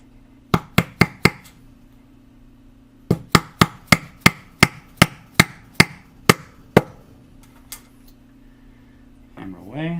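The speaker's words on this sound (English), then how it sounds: "Hammer away." Sharp hammer strikes drive a Faber bridge post into the body of a Gibson Les Paul: a quick burst of four taps, a pause, then a steady run of about ten evenly spaced knocks, a lone tap, and a voice at the end.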